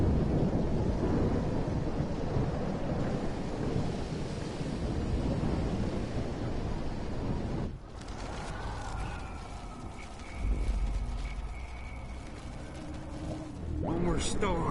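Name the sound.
thunderstorm in the video game Life is Strange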